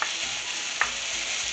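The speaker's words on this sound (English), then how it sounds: "I'm gonna saute these up under high heat and try and get a little bit of caramelization on there" Jalapenos sauteing in a hot pan over high heat give a steady, close sizzle with no pauses, broken by one brief clink of a stirring utensil about halfway through.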